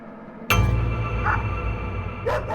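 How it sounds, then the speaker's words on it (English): A dog barks a few times over a steady, noisy background, the barks rough and fairly close. "He was looking out into the woods and barking non-stop."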